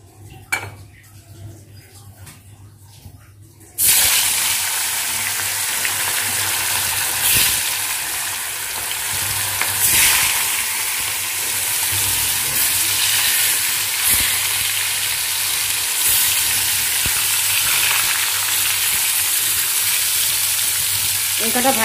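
Fish pieces fry in hot oil in a wok, a loud, steady sizzle that bursts in after a few quiet seconds and carries on evenly, with occasional clinks of a utensil against the pan.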